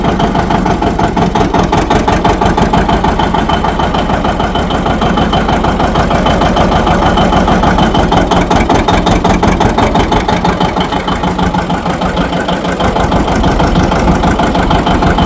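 A John Deere 730 tractor engine chugs in third gear after warming up, a loud, steady, rapid low-pitched pulsing that continues evenly for the whole stretch with no talk.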